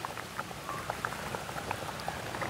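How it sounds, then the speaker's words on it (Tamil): Kumbila fish curry simmering in an open pot over a village cooking fire, giving a faint, steady bubbling with scattered soft pops and no talking. "அப்படி கொதிக்குதுன்னு பாருங்க,"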